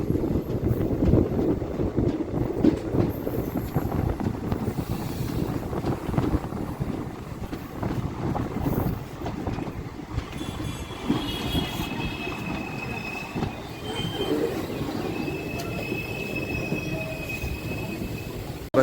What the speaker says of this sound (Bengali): আমাদের এই ট্রেন এখন 386 কিলোমিটার ওভার জার্নি কভার করার পর আমাদের 18 নম্বর স্টেশন আমগুড়ি জাংশন এসে জাস্ট অ্যারাইভ করেছে